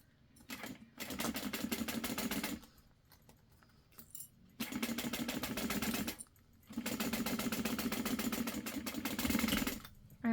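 Sewing machine stitching fabric seams for a glitter shaker craft, running in three sustained bursts of rapid rhythmic needle chatter separated by brief pauses, close and clear with no talk.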